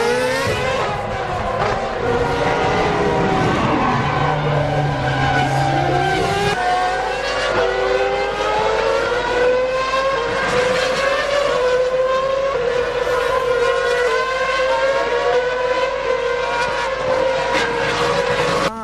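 A Formula 1 car in a 2007 race snaps out of control under braking at the Ascari chicane and crashes. A loud, continuous, high-pitched engine wail shifts in pitch, with a skidding tyre squeal mixed in and no talk.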